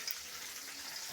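Puti fish frying crisp in a pan in a village kitchen, a steady close hiss of sizzling oil that runs unbroken with no voices.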